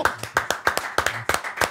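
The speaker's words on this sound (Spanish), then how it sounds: "Un aplauso para Emiro" Crisp, rhythmic group clapping for a street magician in Barranquilla: about a dozen sharp, close claps in quick, roughly even beats, with nothing else heard in between.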